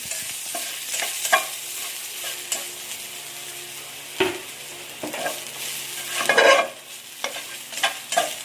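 Garlic sizzles in a hot pan for a tofu and string bean adobo, with steady frying crackle broken by repeated scraping stirs of a utensil, close and alone with no talk.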